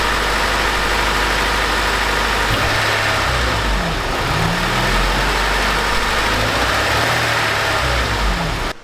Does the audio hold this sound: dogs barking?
no